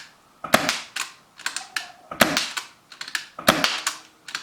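A Tokyo Marui MK23 airsoft pistol fires BBs in a series of about seven sharp, close snapping shots, each with a mechanical clack, spaced irregularly with brief pauses and no voices.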